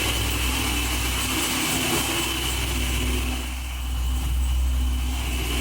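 A 1969 Camaro engine idles steadily while warming up, a constant deep rumble with a whining hum. It is close and fairly loud, with a brief dip partway through and no talking.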